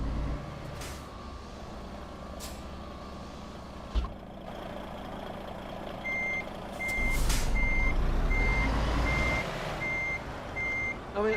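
A big old 280-horsepower truck backs up at night, its reversing alarm beeping in a steady, evenly spaced series over a low engine rumble, with a hiss of air brakes and the engine swelling louder partway through.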